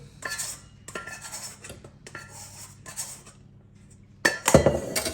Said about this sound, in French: On mélange bien dans le fond pour pas que ça accroche